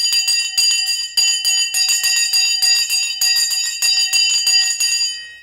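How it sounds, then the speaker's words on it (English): A stock market closing bell ringing loud and close, a rapid continuous metallic clanging in quick bursts that carries on for several seconds before fading out, with no voices. "The bell's gone."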